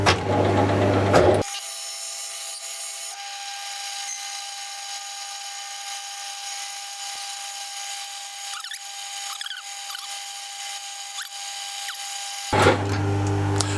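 A metal lathe parting off a small bush with a parting tool, a continuous close machining whine with slight scraping for about eleven seconds, bracketed by louder workshop noise at start and end.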